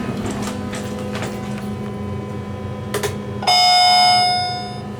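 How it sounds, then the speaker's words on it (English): A modernized Otis hydraulic elevator rings a single loud, clear electronic chime tone that sustains and slowly decays, heard after a few soft clicks over steady cab fan hum. "What a sick sounding chime."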